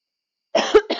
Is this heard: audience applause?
no